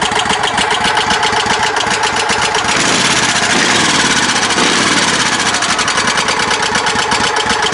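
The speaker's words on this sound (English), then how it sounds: "I don't think welding that exhaust is going to fix that tick. I'm pretty sure that is rod knock." Snatch tractor tow rig engine idling with a tick, likely rod knock, a loud close rapid rhythmic rattle over a steady running drone, holding for several seconds.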